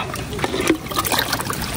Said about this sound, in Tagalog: Punong-puno na naman po ang tubig dito sa drum